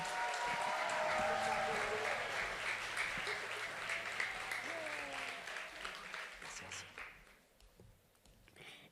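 A crowd at the Trémolo 2025 show applauds as the singer is introduced, a sustained roar of clapping with faint tones beneath that tapers off and thins out near the end.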